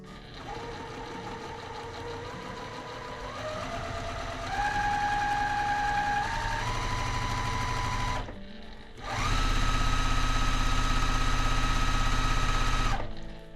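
A sewing machine stitches pieces of a Zola kitchen table quilt from a pre-cut kit, running in steady bursts with a pitched motor whine that rises in speed, pausing briefly before a second louder, faster run.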